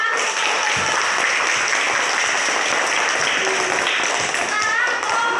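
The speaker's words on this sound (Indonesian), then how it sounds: "Tepuk tangan." A classroom of students breaks into sustained applause, dense and even clapping that holds steady from start to finish with a faint voice underneath.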